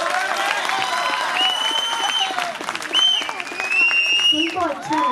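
An audience at a Hindi poetry gathering (kavi sammelan) claps together in a steady burst of applause, with a voice speaking over it.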